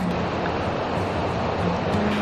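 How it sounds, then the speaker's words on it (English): Flowing river water at Postbridge on the winter moors, a steady, full rushing wash that stays loud and unbroken throughout with no voices over it. "I don't know if you can hear me over the noise of the water"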